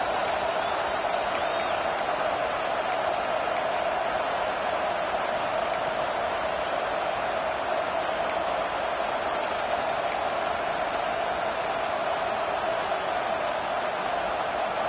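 Broad, steady roar of a stadium crowd at a college football game building energy on a third down, a constant wash of noise with a few faint whistles on top.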